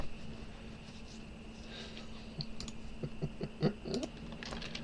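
Keys clatter on a computer keyboard in a short burst of quick, soft clicks over a quiet steady room hum, faint and close.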